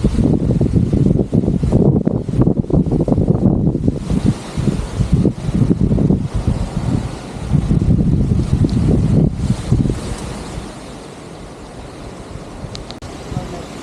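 Strong evening wind sweeps over flooded paddy fields during rain at rice-transplanting time, heard as heavy, gusty buffeting against the microphone that rises and falls in surges before easing near the end.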